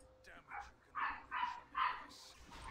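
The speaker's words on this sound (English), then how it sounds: "There's my sister's dog." A dog barks and yips in a quick series of four or five sharp calls, fairly close, over a quiet room background.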